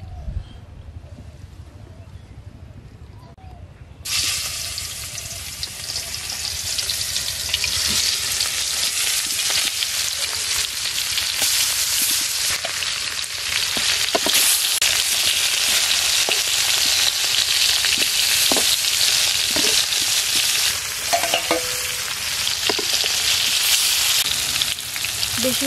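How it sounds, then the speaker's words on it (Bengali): Oil crackles and sizzles loudly in a hot wok after the first few seconds of quieter kitchen noise, a steady dense frying hiss with scattered pops, as turmeric, chili and salt-rubbed hilsa fish is prepared. "কড়াই গরম হয়ে গেছে, আমি তেল দিয়ে দিচ্ছি।"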